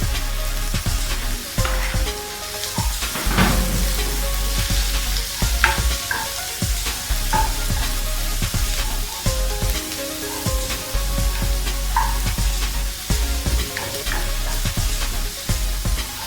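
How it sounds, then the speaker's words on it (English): Tomatoes sizzle and crackle in a hot frying pan as they cook down for a tuna sauce. Stirring and utensil scrapes punctuate the steady frying hiss, with no voices. "I'm going to go and add in the tomatoes."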